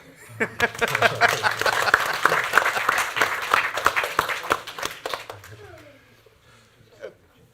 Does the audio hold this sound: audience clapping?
yes